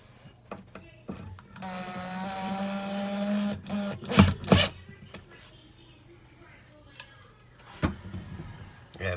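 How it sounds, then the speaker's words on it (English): Power drill driving screws into a wall to hang a picture, a steady whining motor burst lasting a couple of seconds followed by sharp handling knocks and clicks, close and moderately loud. "if you have a nice drill like this one right here, it really makes it easy. Next, we'll put in our screws."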